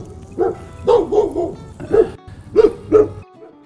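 A dog barks several times in short, spaced bursts, fairly close, with a few yips mixed in.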